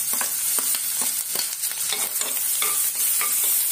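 Garlic and ginger sizzling in melted butter for butter garlic prawns, close and steady, with a spoon stirring in quick scraping strokes.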